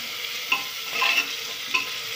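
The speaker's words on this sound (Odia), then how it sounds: "ଆକୁ ଟିକେ ଲୋ ଫ୍ଲେମ୍ରେ ଆମେ 1 ରୁ 2 ମିନିଟ୍ ଟିକେ ଚଲେଇକି ଭାଜିଦେବା" Carrots and other vegetables stir-fry over a low flame, a soft hiss broken by a few sharp clinks and scrapes of a spatula against the pan.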